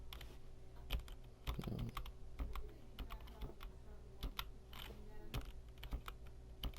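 Computer keyboard keys are pressed in irregular quick clicks and short runs, fairly faint and close, without speech.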